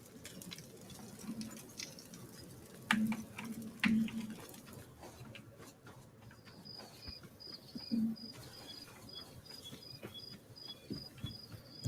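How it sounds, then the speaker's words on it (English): Steady chirping of crickets fills the background near a bonfire in the video game Tainted Grail: The Fall of Avalon, a thin repetitive trill with occasional soft taps and thumps, fairly faint and continuous, with no one speaking. "I realize those crickets are supposed to be like sound like crickets"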